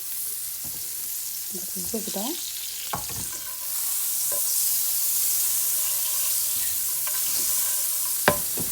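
Butter sizzles in a frying pan used for salmon, a steady close hiss that grows louder midway. Occasional utensil knocks and scrapes are heard, and one sharp clack comes near the end.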